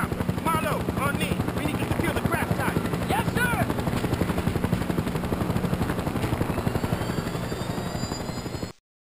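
A helicopter in Battlefield Bad Company 2 Mobile drones steadily with a rapid rotor chop throughout, while voices talk over it and brief bursts of gunfire-like clatter mix into the loud, continuous din.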